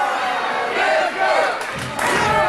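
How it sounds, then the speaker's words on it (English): Crowd at a Barnesville wrestling show cheering and yelling to encourage a wrestler, a loud, continuous roar of many voices with a surge near the end. "Crowd here at Barnesville cheering for Fry, encouraging him."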